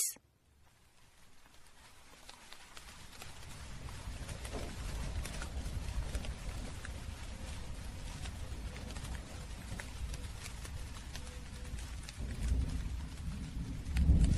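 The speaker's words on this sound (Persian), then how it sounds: "جوجو از صدای بارون بیدار شد. هوا هنوز تاریک بود. با هر برق زمین و آسمون مثل روز روشن شد" A rain and thunderstorm effect plays as a steady, low, rumbling wash of falling rain with a deep swell of thunder near the end. No one speaks over it.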